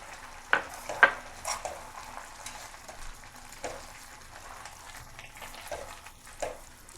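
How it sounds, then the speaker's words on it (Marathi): Grated carrot halwa with milk and sugar is stirred in a pan. A spoon scrapes faintly and irregularly, with a few sharper clinks near the start over a quiet, low simmer. "चांगलं ढवळून घ्यावं आणि 10 मिनिट होऊ द्यावं"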